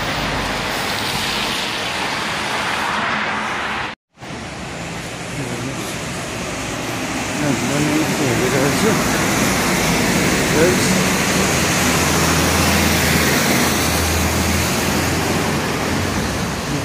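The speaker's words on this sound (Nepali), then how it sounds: "त्यस्तै पानी परिरहेको छ" Steady rain pours down on a Hong Kong street, a dense, continuous broadband hiss that fills the whole stretch, briefly cut off once near the start, with a low traffic-like rumble underneath and no clear talk.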